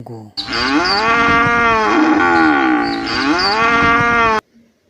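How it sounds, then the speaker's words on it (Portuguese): One long, loud cow moo, close and sustained for about four seconds, rising and falling in pitch before cutting off. "O mugido da vaca tem um som longo."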